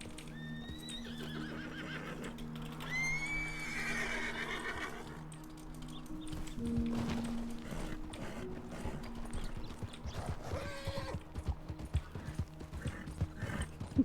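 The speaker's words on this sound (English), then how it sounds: "Stupid horse!" A horse whinnies several times with rising and falling neighs, alongside clip-clopping hooves and snorts, fairly close and clear, the hoofbeats growing busier toward the end.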